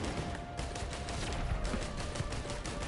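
Rapid gunfire from a player shooting an enemy in the video game Risk of Rain 2, a dense, continuous crackle of shots that rolls on steadily for the whole stretch with no voices.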